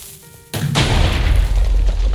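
A cannon in the video game CityCraft fires obsidian projectiles: after a quiet moment, a sudden loud boom bursts out, then a heavy rumbling blast carries on and holds steady to the end.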